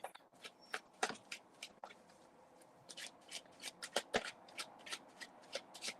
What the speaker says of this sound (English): I know she's still shuffling, but I'll make sure she's in the... I'm okay. Let me just cut the deck here real quick.